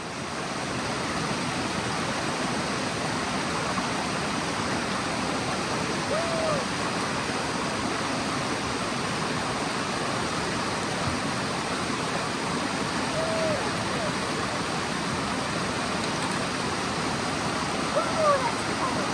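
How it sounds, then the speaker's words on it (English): Stream water rushing over rocks at a trail crossing in the New Hampshire White Mountains, a steady broadband wash that stays loud and close for the whole stretch with no break. "We just went through a water crossing."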